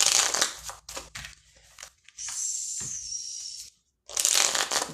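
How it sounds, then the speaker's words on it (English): Tarot cards shuffled by hand in several quick riffling bursts, each one crisp and close, separated by short pauses. "These don't shuffle right anymore."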